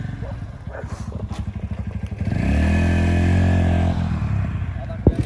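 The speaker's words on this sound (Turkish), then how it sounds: "Devir 2000'de şu an birinci vitesimizi attık." Motorcycle engine held at about 2000 rpm in first gear, a near, throbbing idle with clattering that swells into a steadier, louder drone, then eases back with a sharp knock at the end.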